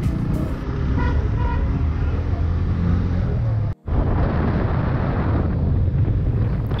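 Road traffic with autorickshaws and other vehicles passes along a road near a village about 12 km from Dhaka, a steady roar with wind buffeting the microphone and a few short horn toots early on.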